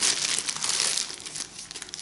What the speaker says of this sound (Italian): metto immediatamente qui nel mio sacchetto per congelare.